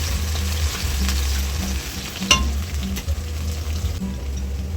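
Onions frying in a pan while being stirred, a steady close sizzle with rhythmic scraping strokes and an occasional clink of the utensil against the pan, no speech.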